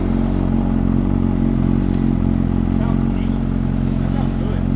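An MV Agusta Brutale RR motorcycle with an SC exhaust idles steadily with a deep, continuous engine rumble, loud and close throughout.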